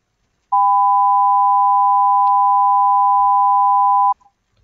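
Two pure, high sine tones sound together, steady and unbroken for about three and a half seconds, producing a faint low difference tone before stopping abruptly.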